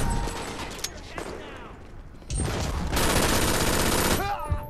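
Automatic gunfire in the video game Brink: bursts of rapid shots over a busy battle soundscape, with a loud, sustained stretch of firing in the second half and a brief synthetic whoosh near the end.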